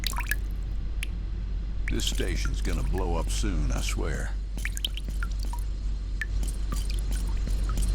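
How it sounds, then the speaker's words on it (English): Water drips and trickles through pipes aboard a space station in the SpaceBourne 2 video game, with scattered sharp drip ticks over a steady low hum while someone speaks over it. "now water coming through the pipes"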